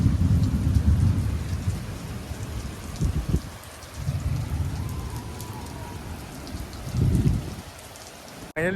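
Steady heavy rain at Mandarmani beach hisses continuously, with deep rumbling swells that rise and fade several times, as if wind or distant thunder is rolling in, and no voices are heard.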